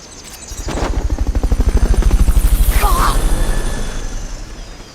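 A helicopter in the video game Metal Gear Solid Peace Walker approaches loudly, its rotor thumping in a fast, steady pulse that swells and then fades, with a brief voice partway through.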